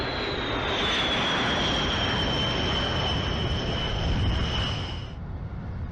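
B-1 Lancer bomber jet passing with a steady, loud roaring rush and a thin high whine that fades near the end, heard alone with no voices.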